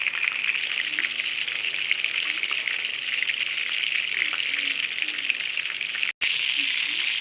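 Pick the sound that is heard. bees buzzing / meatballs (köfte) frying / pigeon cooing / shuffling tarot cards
meatballs (köfte) frying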